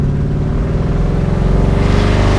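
A 1978 Pontiac Firebird with a built 4-bolt-main 350 V8 accelerating hard on a road, a loud, close, continuous engine roar with pitch climbing steadily throughout, no talk.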